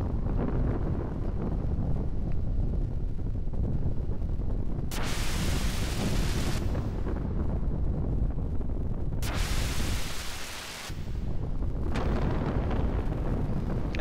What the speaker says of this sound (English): it looks like everything exploded